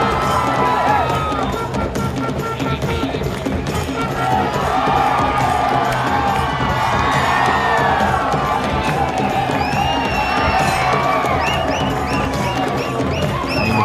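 An excited crowd cheering at a village sports final, a loud continuous roar of shouts and whoops from many people, steady throughout and close.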